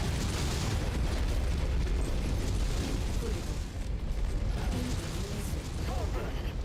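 Heavy mech weapon fire bursts out in the video game Mechwarrior 5 amid loud mechanical rumble and explosive booms, dense and close with no speech.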